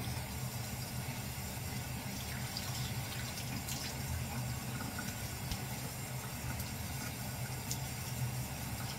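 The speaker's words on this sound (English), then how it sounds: "All right, I'm gonna rinse off." A bathroom tap runs steadily while someone rinses off after a shave, a constant soft rushing of water with no talking.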